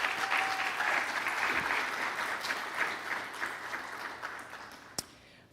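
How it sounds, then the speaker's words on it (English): Sustained applause from an audience at the opening of the Centennial Festival celebrating the Schomburg Center's 100 years, with dense steady clapping that slowly thins out, ending in a single sharp clap near the end. "So if you could join me in giving a round of applause to all of those folks"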